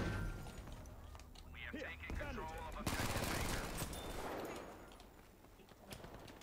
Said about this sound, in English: there's an enemy with a machine gun from behind